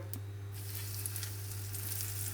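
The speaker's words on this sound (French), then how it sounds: "notre huile est bien chaude. On va pouvoir venir colorer notre poisson." A roasted cod fillet hits hot oil in a pan and sears with a steady, bright sizzle. The frying continues close and even, with a low electrical hum beneath.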